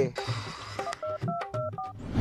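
A rapid run of telephone keypad tones, several short DTMF beeps dialed in quick succession, clear and close, with faint voices and background sounds underneath.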